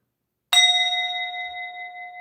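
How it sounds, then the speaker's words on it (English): A small downstairs bell is struck once, a clear metallic ding with a bright attack. Its ringing tones hang and slowly fade over about two seconds, alone and close by. "This is a different bell. This is my downstairs bell."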